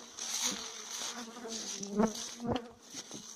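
Honey bees buzz around an apiary being readied for sunflower bloom, a close, steady droning hum with individual bees swelling louder as they fly past.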